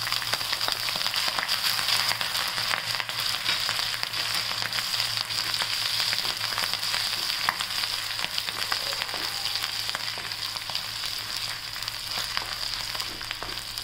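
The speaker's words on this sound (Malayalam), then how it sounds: "അരിഞ്ഞ് വെച്ച ഇഞ്ചിയും പച്ചമുളകും ഇട്ട് വഴറ്റണം." Chopped ginger and green chillies sautéing in hot oil for pickle, giving a loud, continuous close-up sizzle and crackle that stays steady throughout with no voices.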